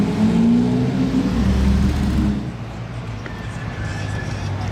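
A sports car engine revs loudly in a tunnel and roars past for a couple of seconds, then drops to a lower steady rumble with a faint whine.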